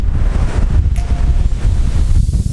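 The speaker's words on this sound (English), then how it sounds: "but I'm even fighting the wind" Strong wind at a seaside campsite buffeting the microphone, loud low rumbling gusts in uneven bursts with sea surf beneath, no speech.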